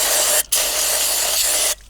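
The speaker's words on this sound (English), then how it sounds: "I just use a simple bloody carby cleaner and spray it in there" Two long bursts of carburetor cleaner aerosol spray hiss, close up, with a brief pause between them and a sharp stop at the end.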